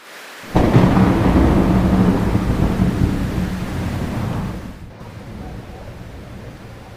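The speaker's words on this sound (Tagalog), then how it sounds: "Isang sigwa." A thunderstorm opens with a sudden loud thunderclap that rolls on with heavy rain, the rumble steady for several seconds before it eases and thins out.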